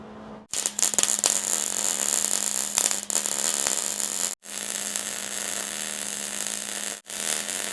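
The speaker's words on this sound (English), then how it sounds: "So I'm about to preliminarily weld this" Welding on the frame of an abandoned 1950s big rig truck: a loud, continuous crackling buzz with a steady hum, cutting off briefly three times as the arc stops and restarts.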